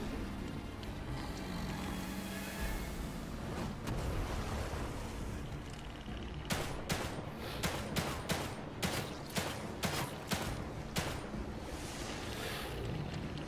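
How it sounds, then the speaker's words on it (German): Gunfire in the video game The Evil Within 2 during a boss fight: a faint, rapid string of sharp shots crackles over low rumbling background noise, bunched mostly in the second half. "Wie viel Schüsse brauchst du denn noch?"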